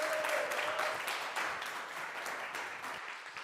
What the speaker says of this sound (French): Sous un tonnerre d'applaudissements, veuillez accueillir MLK